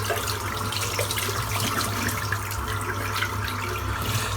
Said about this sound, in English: So I'm just going to rinse this brush out.